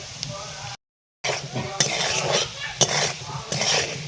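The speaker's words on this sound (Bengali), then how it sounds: "লবণ, হলুদ এবং ধনে গুঁড়ো দিয়ে এভাবে একটু ভাজা ভাজা করে নিয়েছি" Salt, turmeric and coriander powder stir-fried with potatoes in a pan, a continuous sizzle with scraping spatula strokes and occasional metal clinks, broken by a brief silent gap.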